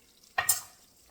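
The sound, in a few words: stirring Cajun after the boil soup in pot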